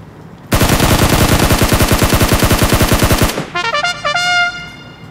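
Rapid automatic gunfire from PUBG Mobile, a loud sustained burst of evenly spaced shots lasting about three seconds, followed by a brief ringing, tonal game sound effect as the firing stops.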